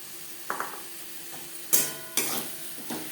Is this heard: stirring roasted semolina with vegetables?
yes